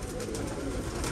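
Pigeons coo softly while being fed, a brief, close, low murmur with no talk.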